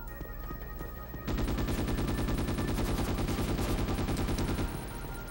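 Enemy gun emplacements open up in the Ghost in the Shell: S.A.C. video game, firing loud, rapid machine-gun bursts that run continuously for several seconds before cutting back to quieter background game sound.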